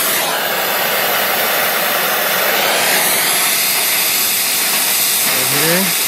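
A brazing torch flame roars and hisses steadily and loudly at close range while unsweating a 3/4 inch copper 90 fitting on a suction line, the flame sputtering and shifting as the valves misbehave.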